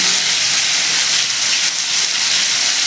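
Continuous loud sizzling of ridge gourd and potatoes frying in a hot pan, a steady hiss throughout with no talking.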